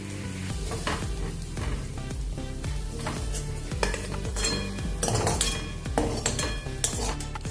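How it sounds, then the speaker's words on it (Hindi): A kadhai (wok) is handled on the stove after roasting potatoes, with metal clinks and scraping against steady sizzling, the clatter irregular and close by. "अभी मैंने वही कढ़ाई ली है जो हमने आलू भुने थे।"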